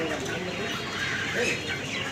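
Broiler chickens, 29 days old, murmur and cluck together inside a poultry farm shed, a continuous dense flock chatter at moderate level with no single bird standing out.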